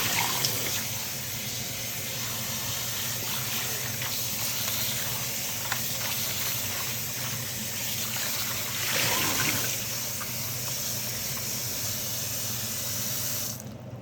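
Bhaji greens washed under a running kitchen tap, giving a steady, close rush of water into the sink that lasts throughout with no talking.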